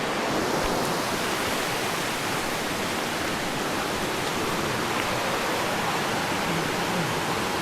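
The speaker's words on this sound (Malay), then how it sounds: "Tengok sungai tu macam ni." A forest river rushes in a dense, continuous wash of flowing water, steady and fairly loud throughout with no voices.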